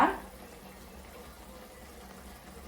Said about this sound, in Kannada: ಇದನ್ನು ನಾನು ಹೈ ಫ್ಲೇಮಲ್ಲಿ ಬೇಯಿಸ್ಬಿಡ್ತೀನಿ